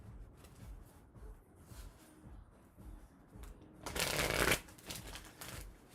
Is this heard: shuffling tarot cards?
yes